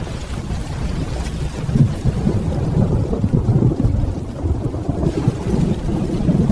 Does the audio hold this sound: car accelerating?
no